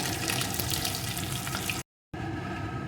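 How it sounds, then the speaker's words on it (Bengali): Fish fry in hot oil in a pan, a loud, dense, crackling sizzle that runs steadily, cut by a short silent gap before the frying noise resumes. "এপিট ওপিট করে মাছগুলো আমার ভাজা হয়ে গেছে"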